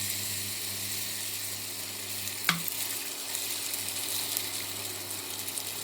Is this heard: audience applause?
no